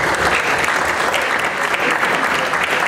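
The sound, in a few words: audience applause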